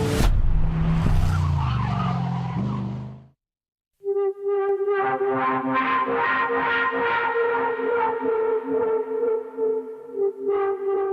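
An Ascari KZ1 supercar drives hard with a steady, loud engine tone and tires squealing through a corner, briefly cutting out before the sound returns continuously.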